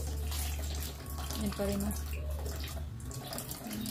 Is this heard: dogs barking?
no